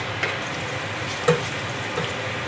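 Ginger sizzling in hot cooking oil in a pan, a steady soft frying hiss with faint crackles throughout, heard alone.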